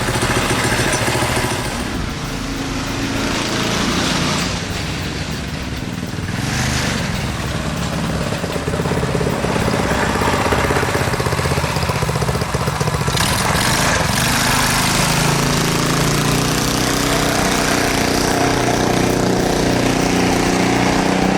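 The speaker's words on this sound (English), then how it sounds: "Still have our advantage of the dual exhaust rumble" A modified KT196 go-kart engine runs continuously with a deep, throaty dual-exhaust rumble and some mechanical clatter, loud and close, with no talking.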